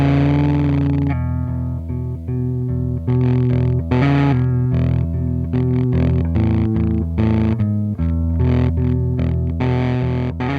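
Electric guitar driven into a cassette recorder's mic input, overloading it into gritty distortion, with sustained chords and riffs played steadily and loudly with no talking.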